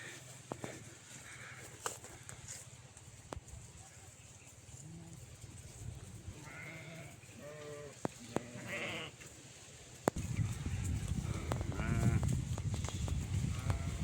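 Sheep and goats bleat in a village apple and peach garden, with several wavering calls at mid-distance over a faint background and a rougher rustling noise near the end.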